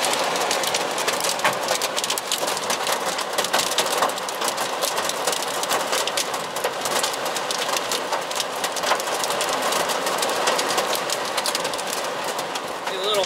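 Hail rattles continuously on a car during a storm, a dense, loud patter of hard hits with no break.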